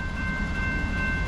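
A Norfolk Southern coal train with triple EMD and Dash 9 locomotives and 168 axles rolls past at about 48 mph, a steady, loud, close rumble of wheels and cars with no break and no talking.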